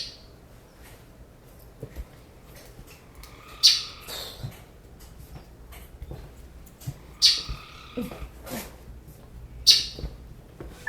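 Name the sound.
many birds chirping in an aviary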